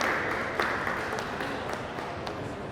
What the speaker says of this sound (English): Please help clap for Yosola as she comes forward